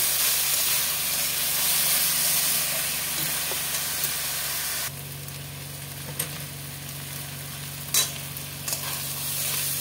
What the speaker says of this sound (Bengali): আমার শাক ভাজাটা হয়ে গেছে